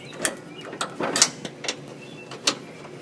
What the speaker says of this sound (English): Alright, we've got the bottom bolt threaded.